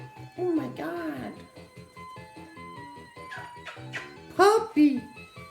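A puppy lets out high, whining whimpers and short yips in several bursts, close by, while a person talks over a steady background of rhythmic thumps.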